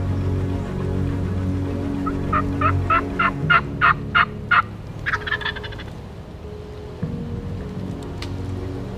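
A wild turkey tom gobbles in a quick rattling burst of several notes, moderately distant in a field plot with a hen, over a steady low rumbling background.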